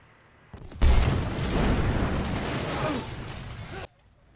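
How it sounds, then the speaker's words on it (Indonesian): A car explodes as a train passes, a sudden loud boom erupting nearby, followed by a roaring, rumbling blast that rolls on for a few seconds before cutting off. "tiba-tiba mobil Andres meledak"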